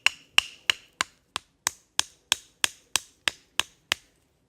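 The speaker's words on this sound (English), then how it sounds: "you can hammer it in" Twelve sharp, evenly spaced knocks of a hammer driving a wooden peg, close and clear, each ringing briefly before the next.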